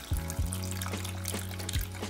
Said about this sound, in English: Put a little vinegar in here.